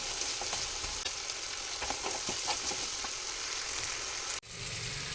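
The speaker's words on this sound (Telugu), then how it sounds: "ఇప్పుడు బెండకాయ ముక్కలు కూడా యాడ్ చేసుకుందాం. ఈ బెండకాయ ముక్కలు కూడా వీటితో పాటే మగ్గించేసుకుందాం." Okra pieces cooking in a pan with prawns for a prawn-okra stew give a steady broadband sizzle with occasional stirring scrapes, continuous and fairly close, cutting out briefly near the end.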